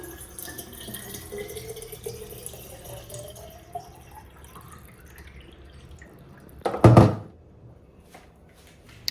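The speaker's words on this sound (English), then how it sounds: "we're gonna fill our water and keep it on my desk" Water runs from a tap into a bottle, the tone rising as it fills, followed by a loud brief thunk and splash as the tap shuts or the bottle is set down, with no speech.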